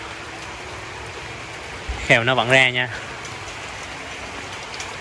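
Steady rain hisses throughout, falling on an outdoor guppy fish pond with water lilies, with a voice speaking briefly over it midway.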